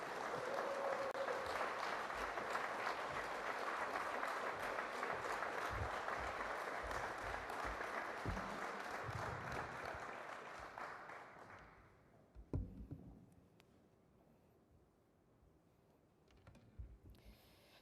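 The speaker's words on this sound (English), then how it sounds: "Let's give her an applause as she comes." Sustained audience applause at a Washington state police reform bill signing, dense and steady for about twelve seconds before fading out, followed by quiet room noise and a couple of faint thumps.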